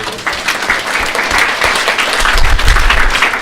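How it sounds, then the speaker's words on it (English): A crowd claps steadily for several seconds, a dense, even round of applause with no talking over it. "Let's give a round of applause for these two."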